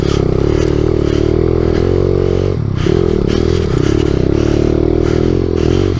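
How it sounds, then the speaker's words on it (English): A dirt bike's engine drones loud and close throughout a ride on a rough trail, holding a steady buzzing pitch with brief dips and rises in revs alongside rattling and scraping. "I forgot how much of a workout it is to ride a dirt bike with this guy."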